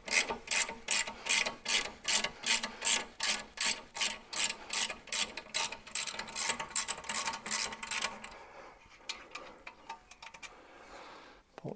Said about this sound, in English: I'll put my 15mm ratchet on